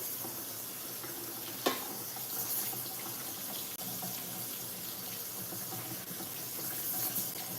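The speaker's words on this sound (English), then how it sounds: "I'm gonna put them in my large strainer and then just give them a rinse over under my sink" Water from a sink tap runs steadily over mushrooms in a large strainer, a continuous close splashing hiss with one brief knock partway through.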